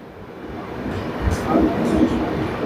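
The Deccan Queen Express runs from Pune to Mumbai with a steady low rumble and rattle that slowly grows louder, and occasional rail clanks cut through.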